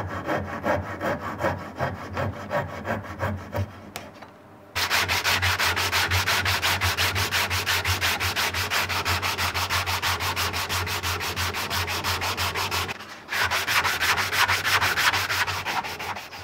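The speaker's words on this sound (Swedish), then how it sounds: "och så sågar jag försiktigt." A fine-toothed hand saw cuts carefully through wooden dowel plugs flush against a board, giving steady, loud back-and-forth rasping strokes with two brief pauses.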